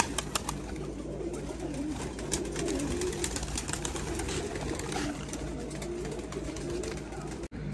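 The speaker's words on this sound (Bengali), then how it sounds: "একটা সাদা সিঙ্গেল নর পায়রা আপনার দেখাচ্ছি" Pigeons coo in a low, continuous murmur at a Rajshahi pigeon farm keeping Gribaj pigeons, several birds overlapping close by against a constant background hum, with a faint voice now and then.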